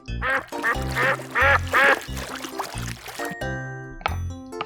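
A toy duck quacks repeatedly in a lively run of loud, nasal calls, followed by a brief tinkling tone and one more quack.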